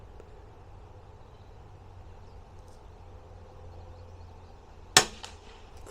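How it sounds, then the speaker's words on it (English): A single sharp shot fired at a bait bug in the Gone Fishing II video game, one crisp snap with a quick decaying tail, heard over a quiet low hum. "So I'm going to shoot at that bait bug."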